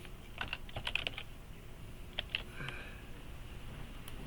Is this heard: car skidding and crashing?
no